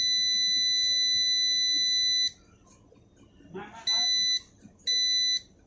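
Passive buzzer driven by an Arduino beeps in long steady tones, one held tone followed by two shorter ones, each separated by a silent delay gap, with faint background noise and a brief rustle between them.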